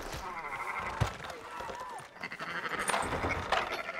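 Sheep bleat at an auction yard in Red Dead Redemption 2, several short wavering calls from a nearby flock amid shuffling hooves and ambient noise.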